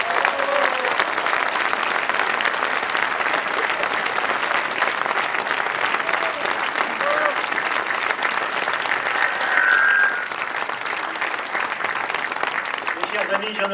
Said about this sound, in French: Je vous demande d'applaudir Brice Hortefeux.